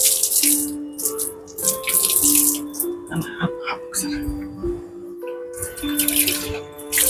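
A tap runs while a household water filter is washed under it. The water splashes and gurgles steadily beneath continuous talking.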